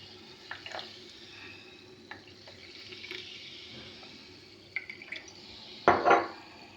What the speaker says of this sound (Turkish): Sodalarımızı da koyalım.